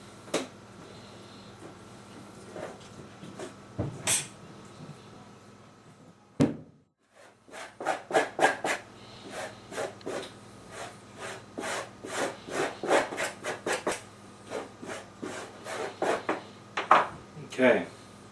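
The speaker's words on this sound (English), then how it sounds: "I'm going to use the flat of my knife for the edge and just kind of scrape it off" A knife blade scraping sinew from venison makes a series of short, close rasping strokes, irregular at first and then in a quicker rhythm, with a person talking over part of it.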